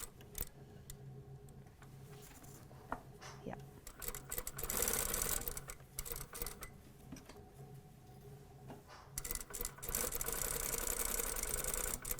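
A sewing machine stitches an exposed zipper pocket on a vest. It runs in short bursts of rapid mechanical ticking, with brief pauses where the work pivots at the corners, and ends in a longer fast run. A voice is faintly present.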